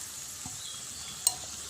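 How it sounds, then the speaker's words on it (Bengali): Onion-tomato paste fries in oil tempered with cinnamon, green and black cardamom and bay leaf, a steady soft sizzle close by with one sharp utensil tap partway through and no talk. "পেঁয়াজ টমেটো বাটাটা তেলে দিয়ে দিলাম"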